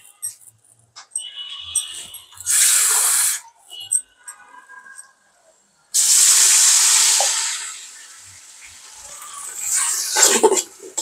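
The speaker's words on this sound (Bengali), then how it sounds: "একটু পানি দিই।" Water is poured into a pot of beef nihari seasoned with star anise and salt, in two hissing, splashing bursts, the second longer, between quieter handling noises.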